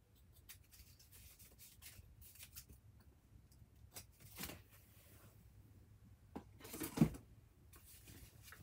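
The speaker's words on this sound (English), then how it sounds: "let's take our scissors." Scissors cutting paper at a crafting table for a vintage-style journal page, quiet intermittent snips and rustles with a louder cut near the end and no talking.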